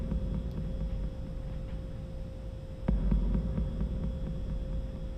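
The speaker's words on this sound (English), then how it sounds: "It sounds very much like a heartbeat." Low, throbbing heartbeat-like music pulses steadily behind a steady hum in a sci-fi space video game, with a slightly louder swell partway through and no speech.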